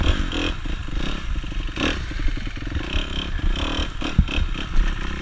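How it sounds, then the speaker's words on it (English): A 350 dirt bike engine revs hard against its rev limiter, a loud, raspy, stuttering bark with rapid pulses and clattering bursts that stays up close for several seconds. "Birthday means rev limiter"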